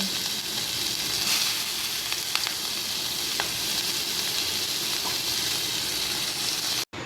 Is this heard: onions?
yes